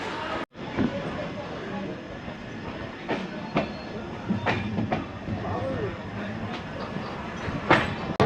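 A suburban local train runs at speed on rails near Sealdah, with loud rumbling, rhythmic clickety-clack and wheel squeals heard from inside the carriage, and voices talking beneath it.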